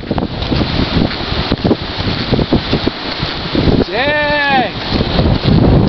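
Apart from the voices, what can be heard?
cold wind blowing over flooded river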